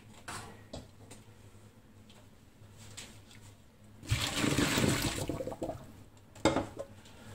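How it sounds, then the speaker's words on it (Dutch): Water is poured out of a pan used for melting chocolate for homemade chocolate ice cream, a short splashing gush that runs for about a second amid quiet kitchen clatter. "Die pan met water, die kan leeg."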